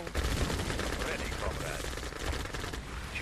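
Tanks in Red Alert pound an enemy shipyard, a loud unbroken barrage of overlapping cannon and gun blasts filling the whole stretch with dense battle noise.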